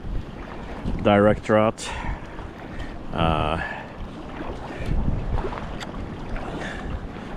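Wind gusts buffet the microphone during an evening sea kayaking trip along the coast, a steady rushing roar with water noise, while someone talks briefly over it.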